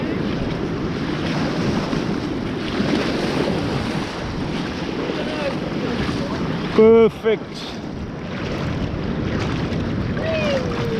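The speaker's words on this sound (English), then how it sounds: "you know how nice it is walking in this water now with the tide coming in" Sea water washing in with the incoming tide inside a cave, a steady broadband surge and slosh close by with wind buffeting the microphone, while a person briefly speaks over it.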